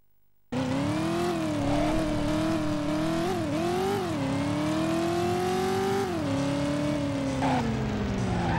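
Engine noise from a car in the PS1 game Driver, set in Miami, drones steadily and loudly, its pitch rising and dipping as the car accelerates and swings through a U-turn and onto the next street.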